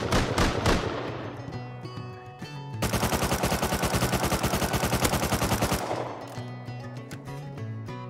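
Automated turret in the Rust video game firing a sustained, rapid burst of even, close, loud shots lasting about three seconds, with quieter game sounds before and after.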